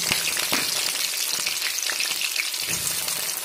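Onions and green chillies fry in hot oil for bathua saag, making a loud, steady, close hiss with a few faint stirring taps and scrapes under it, and nobody speaks.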